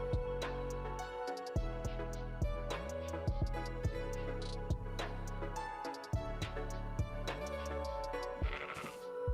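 Sheep bleating in a video game, several repeated bleats with sharp ticking and clicking game sounds between them, fairly faint and without talking.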